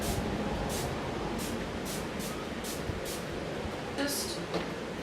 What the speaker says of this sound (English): Then I'm going to be taking a spray, a dewy spray, and applying that.